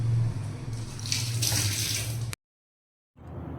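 Tap water runs into a pan of rice set to soak, a close, steady splashing rush that stops abruptly partway through and then resumes more softly.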